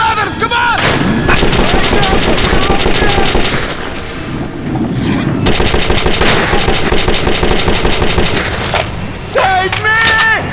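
Loud, rapid gunfire in the video game Metro 2033, bursts of automatic shots continuing nearly throughout with brief pauses, under frantic shouting voices.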